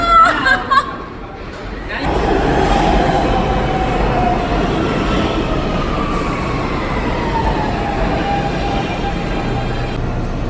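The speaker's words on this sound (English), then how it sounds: "Okay, I'm getting on the subway." A subway train rumbles loudly and continuously, with a rising metallic whine as it moves, after a few brief sounds at the start.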